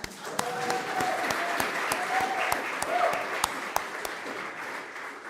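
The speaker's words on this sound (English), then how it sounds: "Please clap for yourselves as well." An audience at a Carnegie University of Africa address applauds steadily, a dense wash of clapping with a few sharper individual claps standing out, while a voice speaks faintly over it.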